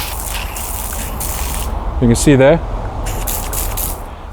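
Water spraying from a garden hose with the tap turned on full, a steady hissing gush heard close by, with someone briefly talking over it midway.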